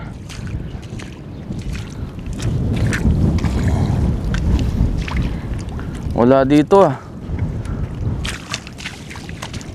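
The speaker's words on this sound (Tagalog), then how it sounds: "sobrang lakas po ngayon ng hangin" Strong monsoon wind roars over open sea while fish nets are being hauled in. The rumbling buffet is steady and close, and someone speaks briefly over it.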